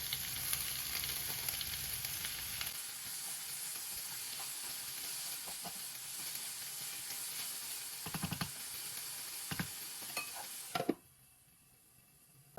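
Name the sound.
onions and tomatoes frying in a pan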